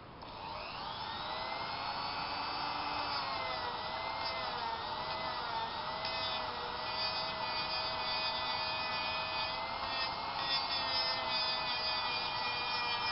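A rotary tool grinds glue off a knife handle, giving a steady high-pitched whine with a shifting tone that runs continuously at moderate level with no talking.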